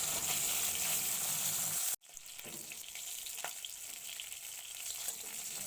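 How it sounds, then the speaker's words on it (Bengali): Fish rubbed with salt and turmeric frying in hot white oil, with a strong sizzle that cuts off abruptly and then returns more quietly with a few crackles and pops, and no talking. "তেল গরম হলে নুন হলুদ মাখানো মাছ দিয়ে ভালো করে ভেজে নেব।"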